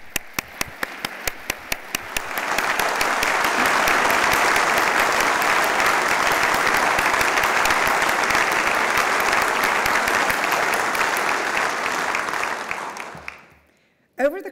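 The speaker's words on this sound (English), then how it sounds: "Give a round of applause." An audience applauds the newly introduced 14th president of Wake Forest University at an inauguration forum. A few scattered claps quickly swell into full, steady applause that holds for about ten seconds, then fades out abruptly.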